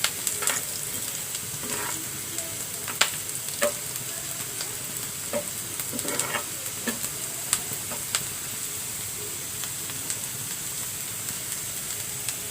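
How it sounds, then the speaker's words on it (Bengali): Chopped onion sizzles softly in hot oil in a pan, punctuated by irregular scraping and clinking from a spoon stirring it, fairly quiet and close. "একটু একটু পেঁয়াজটা ভাজা হয়ে আসছে।"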